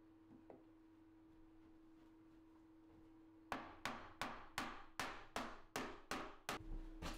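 Glued wooden finger joints on a lap desk being hammered together, about ten sharp evenly spaced knocks after a few quiet seconds, close and loud with no talking.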